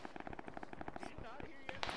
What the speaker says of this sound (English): your rifle's like echoing and it sounds like a fucking heavy MG or something